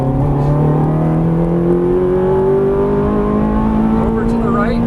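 A Ferrari 430 on a race track at full throttle, its engine note climbing steadily and loudly as it accelerates, close and continuous.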